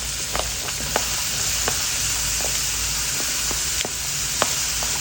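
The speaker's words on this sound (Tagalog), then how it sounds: "konting-konting oil lamang para lang maigisa natin yung ating mga ingredients" Ginger, garlic and onions sauté in a little oil with a steady hiss and crackle, punctuated by occasional light clicks of stirring, close and moderately loud with no voices.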